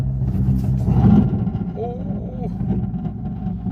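A Citroen car's engine idles with a low, rumbling drone while reversing into a shed; a person exclaims briefly over it.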